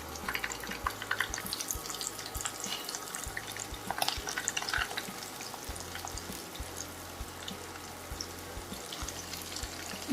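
Prawns fry in hot oil in a pan for a crispy spicy prawn fry, a steady close hiss and crackle of sizzling that carries on without pause.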